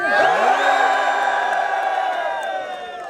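Outdoor political rally crowd in Brazil, on a march, lets out a loud, sustained collective shout and cheer that holds strong, then tapers slightly toward the end.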